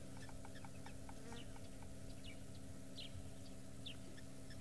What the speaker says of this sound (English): You can hear the lapwings.